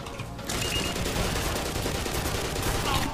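Gunfire in the multiplayer video game Black Mesa erupts after a brief quiet start, sustained loud bursts of shots filling the rest of the moment.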